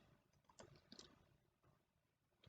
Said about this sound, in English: then go down to this one and do a right click